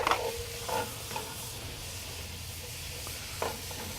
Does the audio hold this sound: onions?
yes